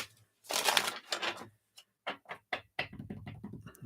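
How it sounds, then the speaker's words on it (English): Cards rattle in a long riffle, then several short quick shuffles follow, ending in a soft papery flutter. "Give this a couple shuffles."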